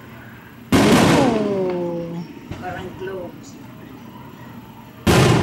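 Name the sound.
fireworks exploding outside the window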